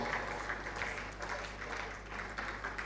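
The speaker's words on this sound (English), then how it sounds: "Please clap for him as he comes up." Audience at a plenary session of a national migrant dialogue applauds a professor coming up to speak, a quiet, steady wash of clapping over a low electrical hum.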